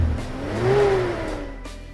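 A Toyota Land Cruiser FJ engine, fitted with added power for on- and off-road driving, gives a single smooth rev that swells and settles back to a steady hum, close and moderately loud with no talk.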